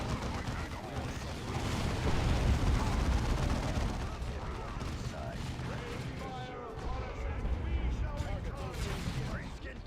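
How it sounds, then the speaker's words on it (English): Grenade blasts in Dawn of War 2 amid constant gunfire, booms and battlefield clatter, loud and dense throughout with short unit voice lines mixed in. "Use a grenade."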